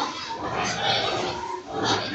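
Pig grunting on a livestock farm, a few rough close oinks rising and falling over about two seconds.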